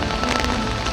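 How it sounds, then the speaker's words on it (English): Heavy morning rain pours down in a constant, dense hiss and patter on nearby surfaces, loud and unbroken, with nothing else heard over it. "It is a beautiful day of the next morning and it's raining heavy."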